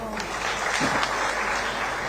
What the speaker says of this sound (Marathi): तुम्ही आबासाठी टाळ्या वाजवत आहेत